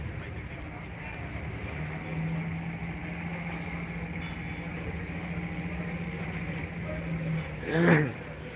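Passenger launch MV Swagi-1 on the river between Bhola and Barisal, its engine making a steady low drone near the Barisal launch ghat, with a louder brief burst near the end over faint background murmur.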